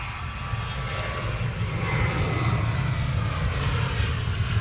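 An airliner takes off from a Manchester Airport runway with a broad, rising roar that swells and stays loud and steady at a distance, with no talk.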